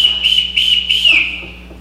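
A ship captain's shrill whistle blown in a stage production, sounding as three or four sharp repeated blasts in quick succession, loud and near, with no talk over it.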